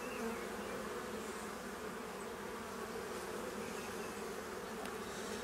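A continuous close buzz rises from honeybees crowding brood frames of a hive opened for a spring inspection, even and unbroken throughout, with no speech.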